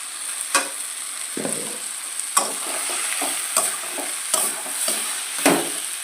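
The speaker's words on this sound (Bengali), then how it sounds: "এবার একটু নেড়ে করে নামিয়ে নেবো" Fish head and cabbage curry, Bengali muri ghonto, being stirred in a pan: a run of scraping, clattering spoon strokes at an irregular pace over a steady sizzle, close and moderately loud, with no talk.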